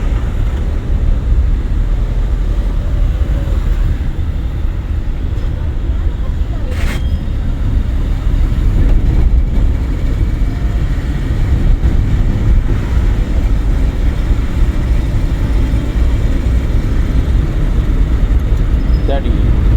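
Car during a driving lesson, clutch released and accelerator pressed gently in second gear, a steady close engine and road drone with constant low rumble, an instructor's voice talking over it.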